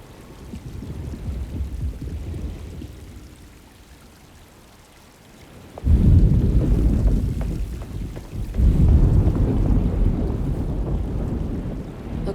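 Stormy weather in the Alone in the Dark game: low rumbling wind and rain noise that fades into a quiet lull, then surges back loudly in dense waves like thunder and downpour, no voices.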